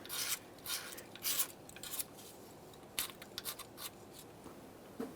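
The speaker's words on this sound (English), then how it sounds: "I'm going to use a flat blade razor and make my way around the entire mounting base" Old gasket material is scraped off the water pump mounting surface of a 1994-2001 Dodge Ram 1500 5.2L V8 with a flat blade razor, in short, close rasping strokes separated by brief pauses.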